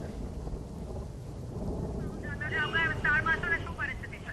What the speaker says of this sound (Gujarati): સતત જે રીતે ઝરમર વરસાદ છે તે ચાલી રહ્યો છે